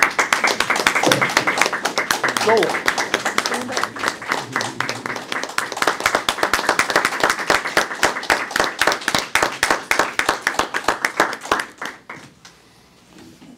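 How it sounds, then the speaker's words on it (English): Audience applause for nurses standing at a nursing program partnership event, dense rhythmic clapping from a crowd that carries steadily for about twelve seconds, with a brief spoken word early on, before fading out abruptly. "we can give you guys a quick round of applause"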